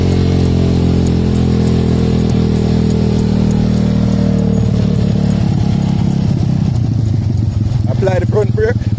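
A motorcycle engine drones steadily and close, with throttle opening into a rougher rising rev during a learner rider's session in Jamaica, while people talk over it.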